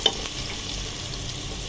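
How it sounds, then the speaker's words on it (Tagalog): Onions are stirred in a hot frying pan with garlic and ginger while cooking beef sinigang. A steady close sizzle runs throughout, with a faint scrape of the utensil near the start. "Pagkalagay natin ang ating sibuyas ay atin ang haluin."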